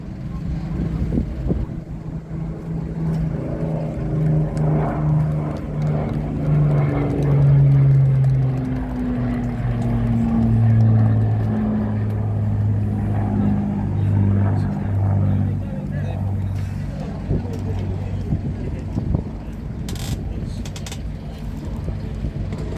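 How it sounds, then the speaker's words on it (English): Rolls-Royce Merlin piston engines of a Spitfire and Hurricane drone loudly at an air show fly-past, their deep throbbing tone swelling and shifting in pitch as the planes pass, with a voice heard faintly underneath. "I hope you can appreciate the sound of those Merlin engines as they come roaring down the centre line."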